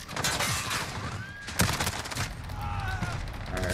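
A VLK Rogue shotgun fires incendiary rounds in a first-person shooter, with several loud booming shots amid a busy battlefield din, overlapping gunfire from other players and a faint voice under the noise.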